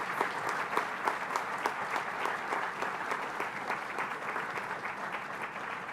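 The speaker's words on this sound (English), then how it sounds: "a round of applause for the School of Business Management" A graduation ceremony audience applauds for a school of business management, a dense, even wash of clapping that holds steady throughout at moderate distance, with no voices on top.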